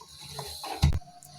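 A pressure cooker lid is shut over boiling rice for biryani, giving a sharp metallic clack and rattle that rises briefly over faint kitchen background noise.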